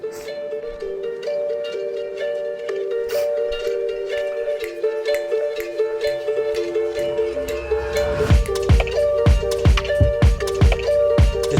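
A track playing: a looping melodic electronic phrase that builds, with punchy beats entering about two thirds of the way through, steady and fairly loud.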